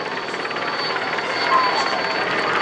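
A helicopter flying above the Tour de France route during a road stage, its steady droning rotor and engine noise filling the air continuously and evenly throughout.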